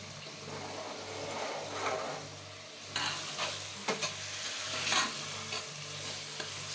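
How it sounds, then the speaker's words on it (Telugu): Chicken pieces stir-fried in hot oil for Hyderabadi chicken dum biryani, a steady sizzle running throughout with scraping, stirring bursts from a spoon, fairly close and moderate in level, no talking. "ముక్కలన్నీ కిందకి పైకి అట్లా తిరగేసుకుని ఫ్రై చేసుకుందాం ఆయిల్లో"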